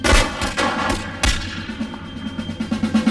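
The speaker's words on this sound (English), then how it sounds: "Present arms! Fire at will!" A volley of gunfire from a period-drama firing line, with several loud sharp shots cracking close by at the start, followed by scattered fainter reports and lingering rumble.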